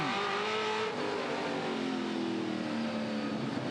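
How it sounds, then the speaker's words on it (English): Continuous loud touring race car engines roaring and revving at a circuit race, with steady high-pitched whine and shifting engine tones, close and sustained throughout. "I just love the sound of these cars."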